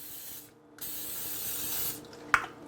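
Two hissing bursts of aerosol spray from a spray can, a short one and a longer sustained one, followed by a small clack, close and fairly loud, while making ice cream sandwiches.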